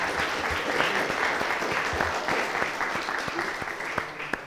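Audience applause fills a lecture hall, a steady dense wash of many hands clapping at moderate level, with a few sharper individual claps standing out near the end.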